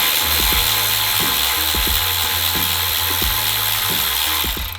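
A hand ratchet wrench loosens a 12 mm bolt on a Subaru WRX/STI EJ20/EJ25 engine during teardown, giving loud close repeated clicking strokes in a steady rhythm over a constant hum.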